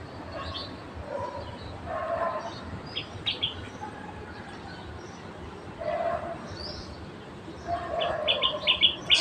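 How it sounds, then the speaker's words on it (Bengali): Birds chirp and call in short bursts at dawn on a rooftop after a night of heavy rain, with a dog barking or yipping in between and steady outdoor background noise. "কি সুন্দর পাখির ডাক।"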